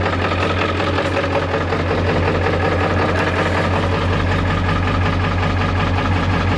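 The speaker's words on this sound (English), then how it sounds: "Should start these diesels once in a while." A 1995 Ford F-350 XL with a Powerstroke diesel idles after a cold start, a steady loud low rumble with a rattling clatter running unbroken throughout, no voices.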